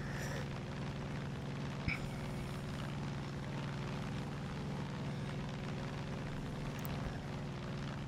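A bomber aircraft drones steadily in Far Cry 5, with a continuous propeller-engine hum that holds at an even level throughout and a faint click partway through.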